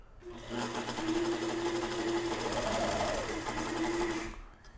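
A sewing machine stitches a fabric head mask in one continuous, close mechanical whir with rapid needle chatter. It slows and stops at the end.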